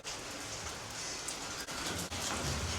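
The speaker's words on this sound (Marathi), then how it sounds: "बारीक बारीक पाऊस पण चालू आहे" Light rain falls on a rooftop terrace as a steady, even hiss of drops across the surface, soft and continuous with no voices.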